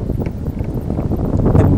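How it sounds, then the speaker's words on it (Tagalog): Strong wind blows outdoors under a tree on a golf course, a loud, continuous low rumble of gusts buffeting the microphone with no voices over it. "Masyadong malakas hangin. Mukhang hindi titigil to eh."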